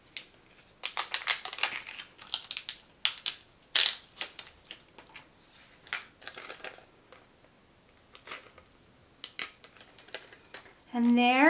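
Paper sublimation design being cut out by hand and peeled from its backing carrier sheet, heard as a run of close, crisp snipping and crinkling bursts, irregular in rhythm, with a brief louder rustle near the end.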